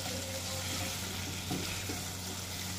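Vegetables for pinakbet frying in oil, a steady soft sizzle with faint stirring, close by and fairly quiet, with no talking.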